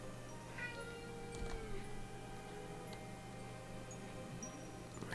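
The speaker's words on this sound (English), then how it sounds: "My cats are not happy with each other in the background." Two cats squabble somewhere in the room, faint meows and yowls rising over a steady low hum, distant and sporadic rather than loud.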